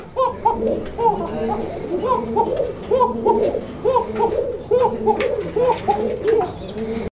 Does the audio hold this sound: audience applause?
no